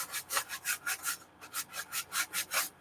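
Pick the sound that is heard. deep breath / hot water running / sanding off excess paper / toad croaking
sanding off excess paper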